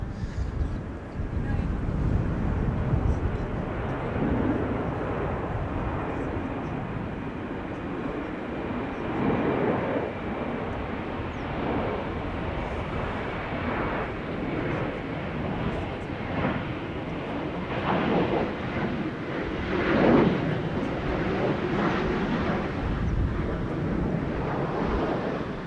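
A Boeing 737-800 airliner at Schiphol Airport gives off a broad, steady roar, heard from a distance and mixed with wind buffeting the microphone, swelling slightly at times over nearly half a minute.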